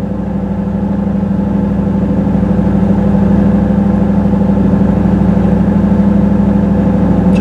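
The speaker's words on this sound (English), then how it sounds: "Kick it up here for a minute and let it run at a fast idle." A third-generation Camaro with a 305 TPI V8 runs at a steady fast idle, producing a loud, even, close-up engine drone with a constant low rumble and no talking.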